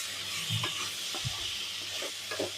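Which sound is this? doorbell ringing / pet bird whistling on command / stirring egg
stirring egg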